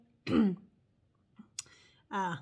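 A harsh throat clearing rasps out, then a short pause, a small cough, and another gravelly throat clear; no words are spoken.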